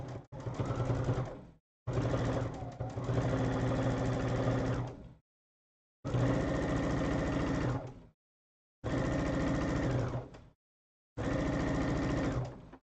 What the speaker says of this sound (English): And just stitch it through.